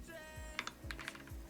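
Crisp clicky keystrokes on an AKKO mechanical keyboard, a quick irregular run of close taps over a faint hum, no talking.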